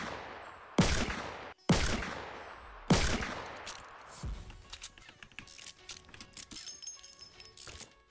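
Three loud, sharp gunshots ring out in Fortnite, each with a long decaying tail, followed by a softer fourth shot and a stretch of scattered quieter game clatter and distant ambient noise.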